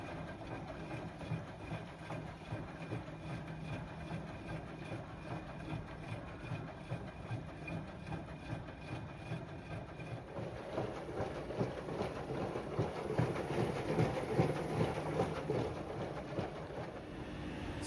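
A Bosch Serie 4 WAN28001 washing machine runs its first spin after the wash, giving a steady low mechanical hum with a faint rhythmic churn that grows louder and busier in the second half.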